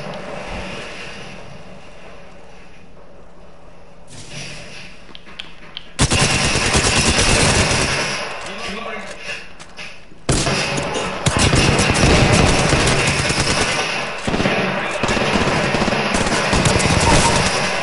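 Automatic gunfire erupts in an Apex Legends match, loud rapid bursts starting after a quieter stretch and continuing in heavy overlapping volleys, with a short break before another sustained barrage.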